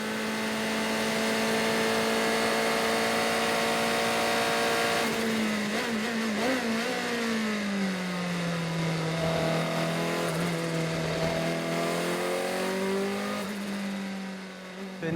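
A 1990 Nissan R90CK race car with a 3.5-litre twin-turbo V8 runs at a steady high drone, then its pitch swoops and shifts as the engine revs up and down, loud and close throughout.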